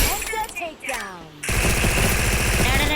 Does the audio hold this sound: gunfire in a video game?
yes